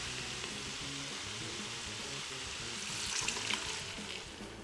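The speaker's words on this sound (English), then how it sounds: "Alright, let's add our wine. So we want 1 cup of wine." Wine poured into jambalaya sizzling in an Instant Pot, a steady close hiss of frying with a brief brighter splash and bubbling near the end.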